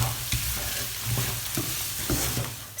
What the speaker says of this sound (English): please keep turning your lentils so that they don't stick at the base of your cooking pot